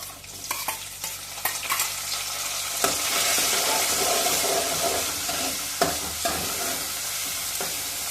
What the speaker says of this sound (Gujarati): સરસ રીતે ટમેટા અને લસણ, ડુંગળી સરસ રીતે ચડી જાય ત્યાં સુધી આપણે હલાવતા રહેવાનું છે.